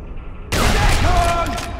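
A loud explosion bursts out after half a second of near silence in the Sniper Elite V2 video game, followed by a rolling roar of debris and crackling fire that stays heavy and close to the end.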